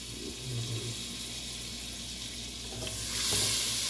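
Butter and oil sizzle steadily in a pot over turned-down heat while being stirred, a close, continuous frying hiss with brief scraping stir sounds and a brightening burst of sizzle near the end.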